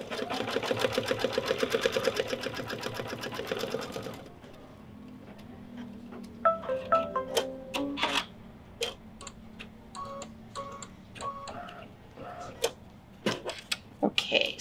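An embroidery machine stitches an appliqué placement line, starting with a steady loud whirring run, then switching to sparse, uneven ticking and clicking with short pauses.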